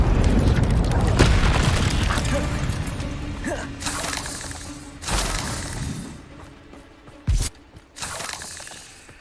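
Hogwarts Legacy combat with the Confringo blasting curse, several booming blasts and shattering impacts going off amid spell effects, one sharp loud burst standing out near the end, with voices heard between.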